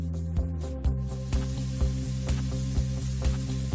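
Ground spice paste hitting a hot pan of oil for a traditional Indonesian beef dish, with a steady close sizzle punctuated by regular sharp ticks and clatters.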